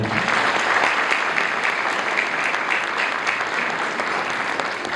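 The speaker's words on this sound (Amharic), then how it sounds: "አጨብጭቡላቸው።" An audience at a kindergarten graduation ceremony claps steadily in dense, sustained applause that fills the hall from start to finish, without speech over it.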